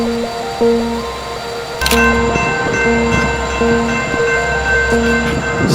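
Train 5704 idles and moves at Corona station, a steady low rumble with rhythmic clanks and a sharp horn-like burst partway through, loud and close, with no talking.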